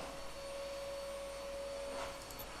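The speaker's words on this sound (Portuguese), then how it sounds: "O aspirador está a fazer muito barulho." A household vacuum cleaner runs steadily in the background, a faint, even whine with a constant tonal hum and no breaks or talking.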